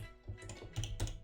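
Quick, light keystrokes clatter on a computer keyboard, a short burst of several taps in uneven rhythm, close and fairly quiet, with no voices.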